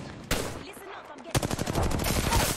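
Rapid automatic gunfire crackles in Apex Legends on Nintendo Switch, a sharp single report followed after a pause by a loud, fast rattling burst of shots close by.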